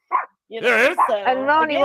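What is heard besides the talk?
small dog barking and yapping in the background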